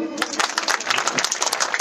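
Brief burst of dense audience applause at a political rally in Chhindwara, Madhya Pradesh, many hands clapping rapidly and loudly, close and continuous for about two seconds.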